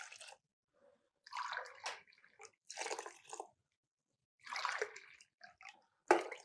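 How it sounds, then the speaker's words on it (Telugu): Water is poured in several short bursts into rice and dal for a veg khichdi, each splash and gurgle separated by near silence, close and fairly soft. "ఎక్కువ వాటర్ వేసేసుకోండి"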